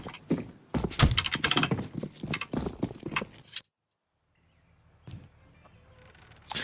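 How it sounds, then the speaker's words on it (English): Intense typing on a keyboard comes through a voice call during a card game tournament: a rapid, uneven burst of close clicks and clacks, then silence, then a few scattered taps. "hear very intense typing"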